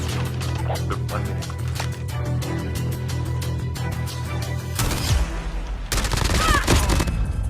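Shotgun blasts and other gunfire ring out in a Call of Duty Mobile battle royale match, several sharp reports heard up close amid busy game noise, with a louder burst of shooting near the end.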